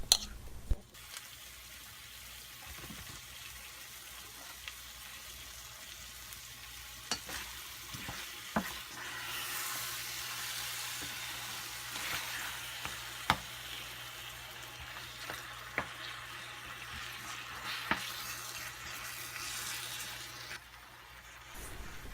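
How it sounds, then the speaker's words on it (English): Chicken and sweet potatoes sizzle steadily in a hot pan over high heat while a utensil scrapes and taps at intervals as they're stirred, no voices. "Put the chicken and sweet potatoes together and stir them in a high heat for 5 minutes."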